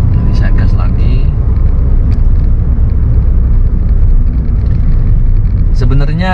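A manual-transmission car engine roars loudly and steadily, its low rumble swelling as it revs, with a brief voice near the start and end.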